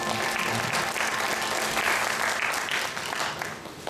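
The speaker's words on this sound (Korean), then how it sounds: "여기 안 계시면 박수 한번." A church congregation at a Korean Sunday worship service claps together in sustained, full applause that fills the hall for several seconds before easing slightly.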